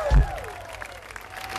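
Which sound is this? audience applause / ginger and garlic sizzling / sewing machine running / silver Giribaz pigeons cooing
audience applause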